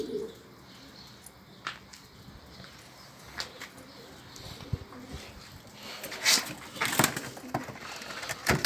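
Native Diyarbakır domestic pigeons coo and flutter in a loft, soft low calls scattered among brief rustles and a few sharper sounds, faint and close.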